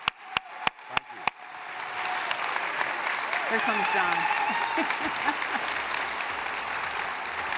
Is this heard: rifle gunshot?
no